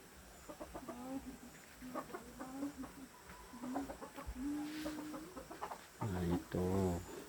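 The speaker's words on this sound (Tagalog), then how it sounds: "yung mga manok namin." Chickens clucking in a bamboo-built coop on a small farm, a steady run of short, close clucks and calls through the clip that grows louder and busier near the end.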